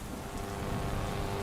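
Steady rain pours down on a dark village road at night in a Hindi horror story, a dense continuous hiss with faint low rumbling beneath, no voices over it.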